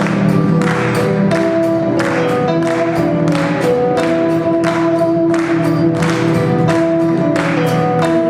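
Audience at a live concert in Tudela clapping along in steady rhythm to a song, roughly two claps per second over loud music with sustained tones, continuous throughout.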